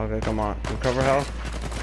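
Rapid gunfire in Uncharted 4 crackles in bursts at the player, sharp reports landing between a running voice and music-like tones throughout the short stretch.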